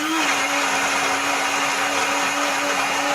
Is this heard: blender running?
yes